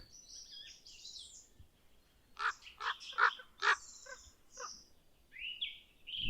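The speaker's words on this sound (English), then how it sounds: "But the distinction is lost on these giant crow-like birds. They hunger for eggs." Ravens calling in a Hungarian forest in early March: a run of hoarse, croaking caws in short bursts, fairly close and loud, with higher squawks at the start and end and no talk.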